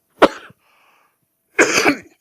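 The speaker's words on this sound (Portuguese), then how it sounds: "Quando vem essa tosse não tem jeito." A man coughs twice, one sharp, short cough followed after a pause by a longer, rougher one, both close and loud against near silence.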